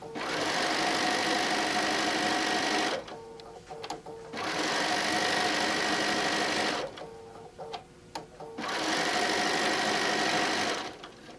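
A sewing machine stitches around the edge of a placemat made from a fabric panel, running in three steady whirring bursts separated by short pauses, close and fairly quiet.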